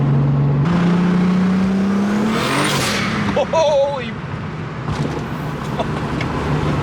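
A car with a rebuilt engine hums steadily while driving, rising in pitch as it accelerates, with a person exclaiming over the engine noise partway through.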